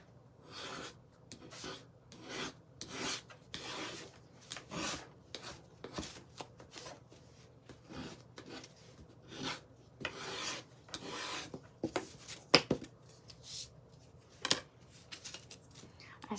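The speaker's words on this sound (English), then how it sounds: "Okay, so just kind of scrape back some of the paint." A putty knife scrapes paint off wooden slats in repeated short, rasping strokes at close range, with an uneven rhythm and a few sharper scrapes near the end.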